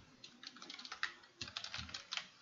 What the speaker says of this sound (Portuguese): vamos escrever qualquer código aqui